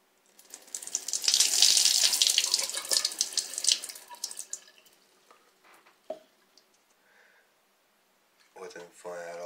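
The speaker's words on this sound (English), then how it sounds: "Pour water on my head." Water is poured over a person's head in one long, loud splashing gush lasting a few seconds, then trailing off into scattered drips before a voice speaks near the end.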